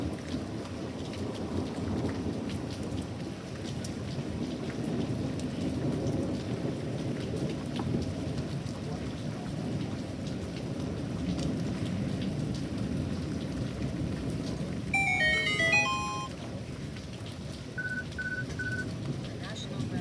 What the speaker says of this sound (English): The storm seems to be calming down though.